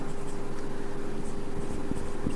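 Marker or chalk scratches across a classroom board in a few short strokes near the end, faint under a constant low hum, with no voices.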